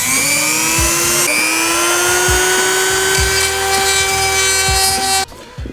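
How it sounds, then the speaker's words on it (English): A Dremel rotary tool enlarges screw holes, a loud sustained high-pitched whine that climbs slightly in pitch as it cuts, then stops abruptly near the end. "what I'm gonna do is Dremel them out to make the holes a little bit larger so the screws go in"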